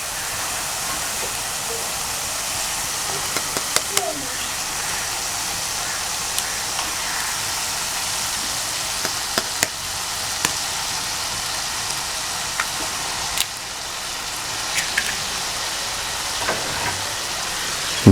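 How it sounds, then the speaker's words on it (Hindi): Eggs cooking in dhaba-style achari masala in a pan: a steady, close broadband sizzle with faint scattered pops and scrapes, continuous throughout with no talking. "अब इसमें मैं अंडे डाल देता हूँ।"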